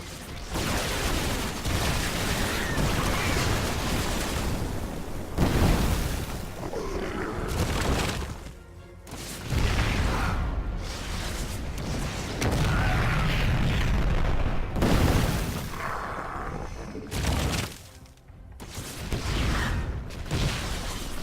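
Barricades blown apart in StarCraft II, a dense, continuous barrage of loud shattering explosions and booms, rolling in waves with brief lulls.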